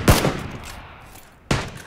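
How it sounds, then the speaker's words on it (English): Gunfire in the video game PlayerUnknown's Battlegrounds: one sharp, loud shot rings out at the start and a second follows about a second and a half later, each trailing off with no talking. "Shots from the left."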